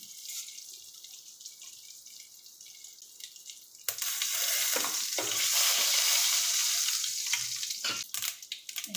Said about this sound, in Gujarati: તેલ ઘી ગરમ થઈ જાય એટલે રાઈ નાખવાની।